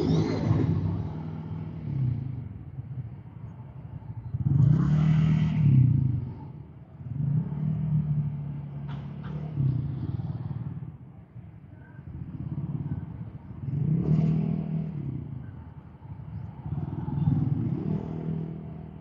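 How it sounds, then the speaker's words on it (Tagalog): Cars passing in traffic, their engines rising and fading in several rumbling swells, moderately close, with a continuous road noise underneath. "Mga kotse."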